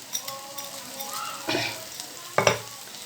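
Tomatoes sizzling in a pan for homemade pasta masala, a soft frying hiss broken by two short scraping stirs, close and fairly quiet.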